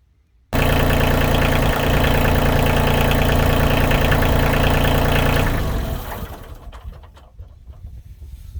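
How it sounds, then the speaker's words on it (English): A Kioti CK2610 compact tractor's diesel engine cranks and catches abruptly, then runs with a loud steady chugging idle. Close by, the engine holds for several seconds and then quiets down, leaving a faint rough low rumble and light background noise. "we'll start the engine"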